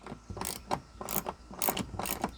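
Quick ratcheting clicks come from a hand tool tightening old bolts on a Toyota Celica hatch strut, sounding in short close bursts of metallic pawl clatter with brief pauses between strokes.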